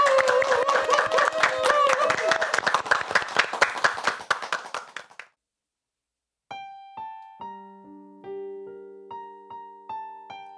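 An audience claps together for about five seconds to open a small Lenten church concert, a dense, close burst of applause that stops abruptly before a few soft piano notes begin.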